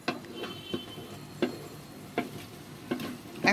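Ghee-fried vermicelli with raisins is stirred in a pan for jorda semai, a spoon scraping at a slow, regular pace in about five distinct strokes over a faint, low sizzle.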